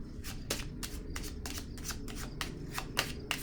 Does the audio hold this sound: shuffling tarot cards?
yes